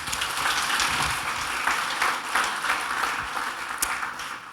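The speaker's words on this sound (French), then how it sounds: "On peut l'applaudir aussi." Conference audience applauding at a live nature talk, a dense, steady clapping from many hands in a hall, sustained throughout and moderately loud.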